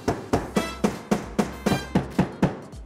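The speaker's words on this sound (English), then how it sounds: "Right now, we've just been using a hammer and a screwdriver, kind of wedging them out and then pulling them out." Hammer blows striking a screwdriver wedged under metal hinge pieces on a board, about ten sharp, evenly spaced metallic knocks, close and loud, with no talking.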